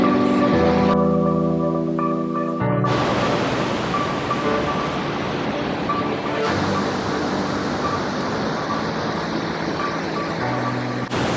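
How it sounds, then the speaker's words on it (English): A broad, constant rushing roar of flowing water, loud and close, with a brief tonal hum at the start before the water noise takes over. "So this is the waterfall and the river"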